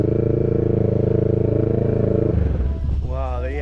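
A motorcycle rides off, its loud, steady idle close by giving way to a rising rev as it pulls away and fades, with a voice speaking over it at the end.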